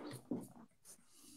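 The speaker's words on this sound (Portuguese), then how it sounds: "O cachorro." A dog whimpers and breathes softly close by, short faint whines and snuffles that are quiet and alone.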